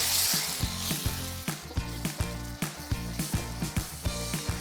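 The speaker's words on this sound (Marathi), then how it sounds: "यात मी इथे 2 कांदे घेतले आहेत, थोड्या मोठ्या साईजचे घेतलेले आहेत आणि हे बारीक चिरून घेतलेले आहेत. सॉटे करून घेऊया." Two large finely chopped onions sauté in oil in a pan, a continuous close sizzle broken by repeated clanks and scrapes of a spoon stirring, with no talk.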